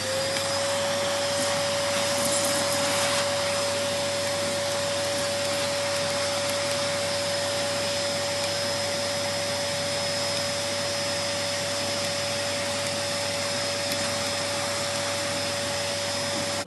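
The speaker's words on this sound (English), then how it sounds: "make sure it's all sucks up by this vacuum cleaner" A vacuum cleaner runs steadily and close while cleaning dust from a computer, a constant whining drone with a high tone that holds throughout.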